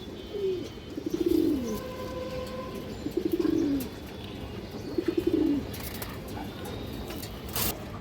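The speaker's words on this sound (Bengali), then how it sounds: "একদম পিওর কাগজি চুষাল একটা মাদি কবুতর" A pure Kagzi female pigeon gives three soft, rolling coos a couple of seconds apart, close by, over a quiet outdoor background.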